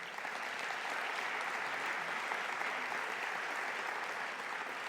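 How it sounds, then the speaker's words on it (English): Audience applause at a science conference keynote, steady dense clapping from a crowd that holds evenly throughout, fairly distant and moderate in level, with no voices over it. "Please give a moment of applause for them."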